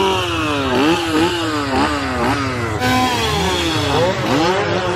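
Chainsaw revving loudly and continuously at a Halloween Horror Nights 2022 opening-night event, engine pitch sweeping up and down in repeated surges, close and dominant.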